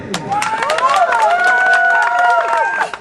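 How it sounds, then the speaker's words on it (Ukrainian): A crowd claps and cheers at a district football cup championship ceremony in Skole in 2013, a fairly loud burst of scattered applause mixed with raised voices and calls. "Оплески!"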